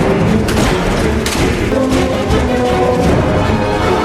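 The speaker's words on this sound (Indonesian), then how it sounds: "sepasang polisi yang sedang berpatroli keduanya dikagetkan dengan ledakan besar dari dinding gedung" A large explosion bursts through a building wall in a film scene, filling the clip with a dense, loud, continuous roar and rumble with no pauses.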